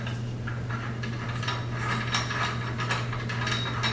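A lamp shade is screwed onto a pendant light socket: soft ratcheting, rubbing turns repeat over a steady low hum, close and fairly quiet.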